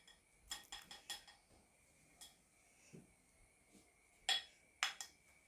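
A spoon clinks against a bowl while flour is added, several sharp, quiet metallic taps in uneven clusters with soft rustling between them.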